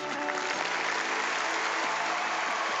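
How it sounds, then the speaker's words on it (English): Steady audience applause from a wedding-themed TV show studio crowd, a dense continuous patter of many hands that holds loud and even throughout, with no talk over it. "Give them a big round of applause"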